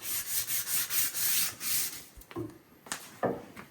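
Close, rhythmic strokes of sandpaper on an old hickory handle for about two seconds, then a few scattered knocks and rubs as the sanding stops.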